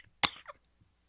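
A single harsh, racking cough from a dying man, close and dry, followed by a fainter throat-clearing rasp and a faint breath in quiet surroundings.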